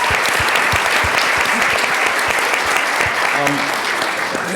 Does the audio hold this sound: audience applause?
yes